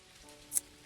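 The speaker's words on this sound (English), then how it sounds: "It's raining. How lovely." Faint, steady rainfall in the Dinkum video game, a soft, even patter with one brief brighter splash partway through.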